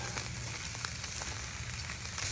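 Potatoes sizzle directly on hot charcoal in a Weber Smokey Joe grill, a steady, close crackling hiss with small pops running unbroken throughout, with no talk.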